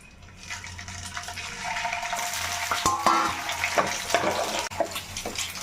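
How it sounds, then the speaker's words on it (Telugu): Eggs fry in hot oil in a home kitchen pan, a steady sizzle with scraping and stirring clatter and a few sharp utensil knocks, no voices. "ఇప్పుడు ఇదే ఆయిల్లో మనం ఎగ్స్ కూడా ఫ్రై చేసుకుందాం"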